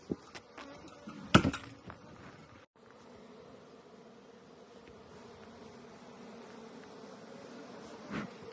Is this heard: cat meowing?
no